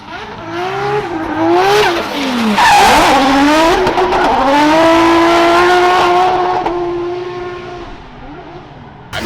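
A Honda K24-powered Nissan 240SX making 500 horsepower drifts at Hyperfest, its engine screaming at high revs with rising and falling pitch and tire squeal, loud and close for several seconds.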